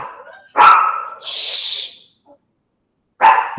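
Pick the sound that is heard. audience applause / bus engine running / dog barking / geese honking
dog barking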